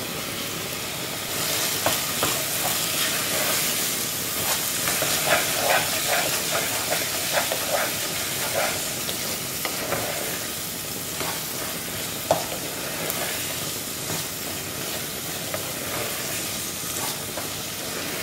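Onion-and-tomato masala for a Goan mince hot dog snack fries in a pan, a steady loud sizzle with frequent scraping stir strokes throughout, no talking.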